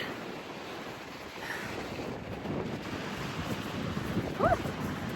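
Surf and wind on a deserted beach at Cape Wrath make a soft, continuous wash of breaking waves and gusting air that swells slightly near the end, with a brief faint higher sound and no speech.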